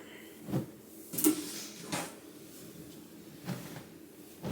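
Bedroom drawers slide open and shut while pyjamas are pulled out, giving several separate wooden thumps and scrapes spread across a few seconds in a quiet room.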